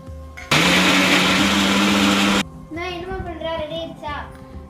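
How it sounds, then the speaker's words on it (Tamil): A kitchen mixer jar grinds cooled onions together with ginger and garlic, roaring loudly for about two seconds before stopping, after which a voice talks over a quieter background. "ஆறின வெங்காயத்தை ஜாரில் போட்டு நல்லா அரைச்சிக்கலாம் அதோட இஞ்சி பூண்டையும் போட்டு அரைச்சிக்கலாம்"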